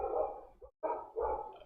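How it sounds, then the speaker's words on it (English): Dogs barking outdoors on a rainy day, a few muffled barks with a brief gap between them, fairly faint and distant, with no talk. "Dogs when I'm recording"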